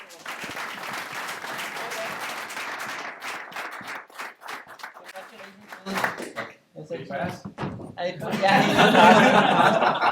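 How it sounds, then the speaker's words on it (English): An audience applauds an award recipient from Therma at a business milestone plan award show, clapping mixed with chuckles and laughter, thinning midway before voices and louder sound swell at the end. "I think we should all applaud him."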